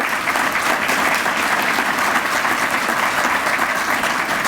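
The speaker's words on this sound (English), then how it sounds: "Would you give them a big round of applause?" Dense, steady audience applause at a legislative gathering fills the whole stretch, loud and close with no break.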